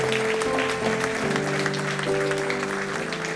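A church congregation applauds together in a steady, dense clapping wash with a sustained musical tone ringing underneath, full and continuous throughout.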